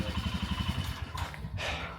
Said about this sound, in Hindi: दिस इज़ द बाइक जो हमने चूज़ किया है, रॉयल इनफील्ड, और दिस इज़ 450 आई गेस